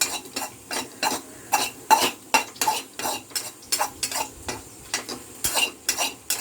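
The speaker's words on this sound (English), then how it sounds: "we just need it to fry for a few minutes" Food frying in a kadai while a spoon stirs and scrapes it, for kadai paneer with onions. The sharp metallic scrapes come in a steady, irregular rhythm over a soft sizzle and stand out close and clear.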